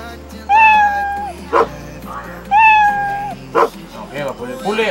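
A cartoon dog sound effect from the Scratch programming tool plays twice, each time a short, bright, tonal yelp followed by a brief burst, loud and close with pauses between.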